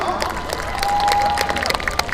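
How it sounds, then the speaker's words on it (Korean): Audience at a youth singing and dance contest breaks into brief, dense applause and cheering to welcome a contestant, loud and close for about two seconds. "박수로 환영해 주십시오."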